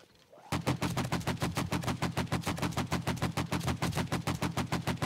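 Rapid automatic gunfire from the video game 7 Days to Die during a zombie horde fight, a loud, steady stream of close shots in fast rhythm that starts abruptly after a brief quiet moment and continues without pause.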